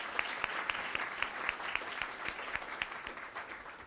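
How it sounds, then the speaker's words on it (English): Audience applause for a panel of speakers at a discussion on U.S.-China clean energy competition, a steady wash of many hands clapping with a few sharper claps standing out, moderately loud and even throughout. "could we applaud these guys one more time?"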